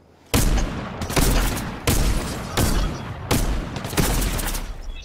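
Gunfire rings out in a Fortnite match, five or six loud, sharp bursts of shots at roughly one-second intervals, each with a booming tail. No one speaks over them.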